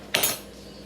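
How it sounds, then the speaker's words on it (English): A jar being opened in a home kitchen while baking cupcakes: a single sharp clattering pop of the lid coming loose, close and brief, then quiet room tone. "And once I get the jar open"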